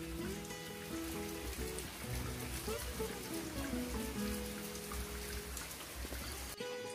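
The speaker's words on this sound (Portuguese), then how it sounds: "E a chuva tá caindo, a chuva não para." Steady rain falling outdoors in a garden, a dense even hiss of drops on surfaces lasting throughout, with faint tonal sounds and a soft voice in the background.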